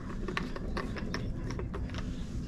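Close clicking and ratcheting as the filter of a Lay-Z-Spa Helsinki Air Jet hot tub is twisted loose, a steady run of small plastic clicks over a constant low rumble.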